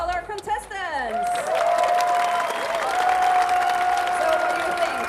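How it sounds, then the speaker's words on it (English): An audience at a cosplay contest at Dreamhack 2019 bursts into sustained applause with cheering, a dense, steady wash of clapping that continues throughout after a brief moment of tonal sound at the start. "Give a warm round of applause for all our contestants."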